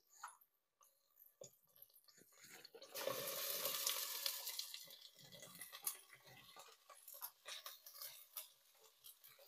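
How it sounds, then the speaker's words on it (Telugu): Brinjal (eggplant) frying in hot oil in a heated pan, a steady sizzle that rises sharply after a few seconds and carries on with occasional stirring scrapes; no talking. "వంకాయ ఇవి కొంచెం ఒక 2 నిమిషాలు వేయించాలి"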